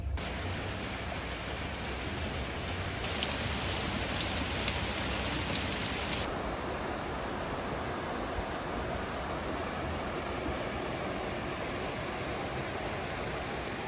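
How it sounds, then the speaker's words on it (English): Steady rain pours down during a storm, a dense, even hiss of drops hitting a surface, and it grows briefly heavier for a few seconds. "Let's see if we get some rain tonight."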